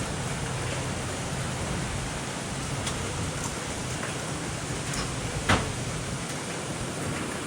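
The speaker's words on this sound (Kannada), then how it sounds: "ಆದ್ರೂ ಮಳೆ ಬರ್ತೈತೆ ಅಂತ ಬೇಜಾರು." Steady, fairly loud rain falls near a beach, a dense even hiss with scattered sharper drop hits and no talking.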